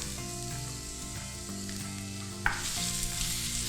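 Carrot and cabbage stir-fried in a pan for a noodle omelette, a close steady sizzle with a sharp clack of a utensil partway through, under faint background music and no talking.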